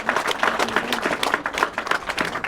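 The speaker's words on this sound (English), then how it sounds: "So I think another round of applause for Wale." Brief burst of audience applause for Wale at an NSF (UK) anniversary reception in the House of Commons, a room of people clapping in a lively, uneven rhythm at moderate volume.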